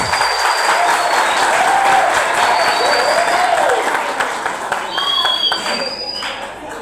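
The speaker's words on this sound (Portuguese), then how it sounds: "Uma salva de palmas" Dense audience applause fills a Brazilian municipal health council ceremony during an award handover to a speaker, with scattered voices and whistle-like cheers rising above the clapping throughout.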